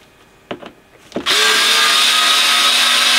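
A cordless power screwdriver backs screws out of an Alto TS310 active speaker cabinet: two brief trigger blips, then a steady, loud whirring spin close to the mic.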